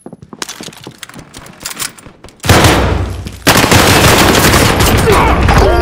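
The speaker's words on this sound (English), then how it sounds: "I'm taking fire!" Heavy gunfire in Call of Duty: Modern Warfare, sparse sharp shots building into a loud, dense sustained barrage of automatic fire that swells and continues without pause.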